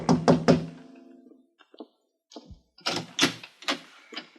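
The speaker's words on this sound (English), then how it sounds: "I tapped on the door." Knocking on an apartment door in an old radio drama, three quick raps followed after a pause by a second, louder series of several sharp knocks, close and dry.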